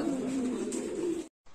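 A pair of fancy pigeons coos close by in a low, steady, throaty hum, one drawn-out call that cuts off abruptly near the end.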